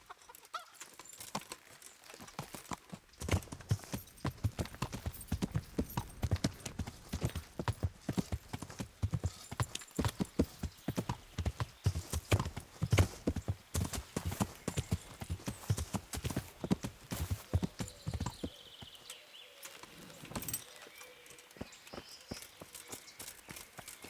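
Horse hooves clip-clop steadily on the ground in the medieval game Kingdom Come: Deliverance, a continuous close rhythm with brief clucking fowl and a faint whinny in the background, with no talk.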